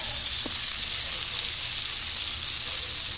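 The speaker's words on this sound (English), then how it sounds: "I've been basting away here" A rib-eye steak sizzles steadily in a cast iron pan while being basted with butter, a loud continuous hiss with one small clink, no talking.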